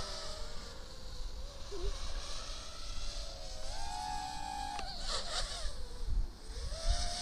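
Eachine Racer 250 quadcopter with 5-inch three-blade propellers on a 3S lipo, flown at full throttle with the wind behind it: a continuous whirring motor whine, steady at first, then rising in pitch and wavering, heard from a distance with no talk.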